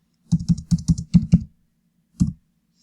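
Keyboard keys typing color values into Photoshop, a quick run of six close, crisp clicks followed after a pause by a single final keystroke.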